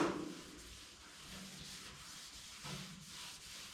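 Cloth rubbing across a car firewall with wax and grease remover during prep for epoxy primer, a soft, steady close-up scrubbing and swishing with no talk.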